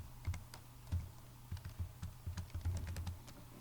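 Fingers tap out a password on a computer keyboard, a quick irregular run of close, light key clicks with short pauses between bursts.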